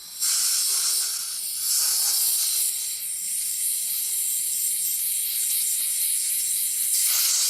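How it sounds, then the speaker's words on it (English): Brake cleaner spray and compressed air blow metal shavings off a freshly tapped thread during a Time-Sert repair, producing a steady, close, loud hiss that runs almost unbroken for several seconds. "clean the metal shavings off. Again, we'll use a little bit of brake clean and some compressed air"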